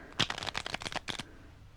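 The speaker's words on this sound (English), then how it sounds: "A riffle shuffle? You remember, it sounds like this." A deck of playing cards is riffle shuffled close up, a quick rapid flutter of snapping card edges lasting about a second, then stopping.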